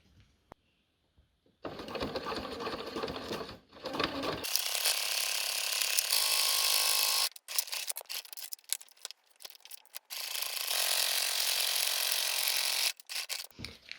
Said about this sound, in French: Et je vais refaire un point droit sur chaque côté à quelques millimètres du bord.